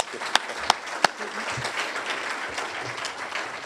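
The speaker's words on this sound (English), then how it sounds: "Another round of applause for Henry, please." Audience applause at a football Wednesday event, a dense crowd clapping steadily throughout, with a few sharp, louder claps standing out near the start.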